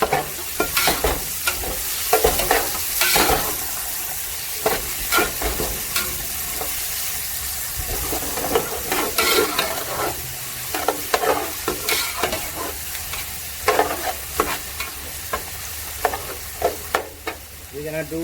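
Chopped red onion sizzles and fries in a pan over a high flame while a utensil stirs it in repeated scraping strokes, a steady close crackle that runs throughout with no talking.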